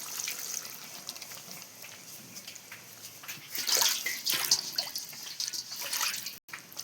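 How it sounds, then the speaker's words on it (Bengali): Water being poured into a pot of meat cooking in a village kitchen, a soft splashing trickle that swells in the middle and stays fairly close, with no one speaking. "আমি এখন নাড়াচাড়া করে অল্প পরিমাণ মতন পানি দিয়ে দিলাম"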